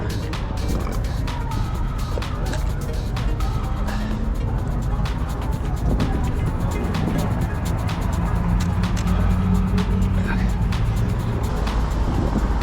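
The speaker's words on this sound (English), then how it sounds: "It's a little too much traffic." Road traffic with cars passing by outdoors: a constant, fairly loud wash of engine and tyre noise that swells slightly as vehicles go past, continuous for the whole stretch.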